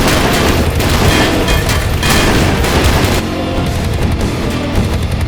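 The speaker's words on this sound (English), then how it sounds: "Oh, I just ate a rocket." Rocket blast and heavy gunfire in the Cyberpunk video game, a loud dense barrage of booms and shots rolling continuously, easing slightly toward the end.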